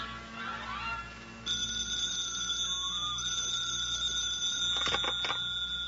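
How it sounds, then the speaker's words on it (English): In an old radio drama, a telephone rings with a bright, sustained electric bell tone that starts suddenly and carries on through the scene, with a faint background hum. "The phone rings"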